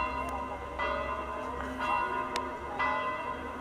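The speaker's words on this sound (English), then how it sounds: "we can really only see the two small bells that are making that sort of cacophony" Small church bells at Saint Peter's Basilica ring in a dense, clashing cacophony, repeated strikes overlapping with sustained hum, moderately distant and steady throughout.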